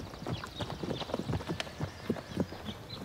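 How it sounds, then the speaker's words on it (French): A horse's hooves clip-clop in a steady, close rhythm as a rider mounts it, the footfalls sharp and distinct with a faint snort or whinny mixed in. "On dirait qu'elle est faite pour monter ce cheval."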